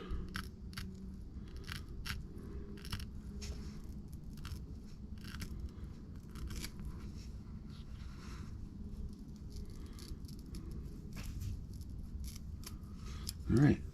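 Scissors cutting down stiff brush bristles on a metal handle, repeated sharp snips in an irregular rhythm over a low background hum, close and fairly faint.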